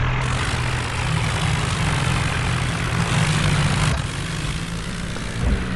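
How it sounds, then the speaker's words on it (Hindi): Several tractors in an Indian vehicle simulator game drone steadily with a loud, low engine roar, straining together to tow a stuck truck free, with no talk over it. "तीनों ट्रैक्टरों ने फुल जोर लगा दिया।"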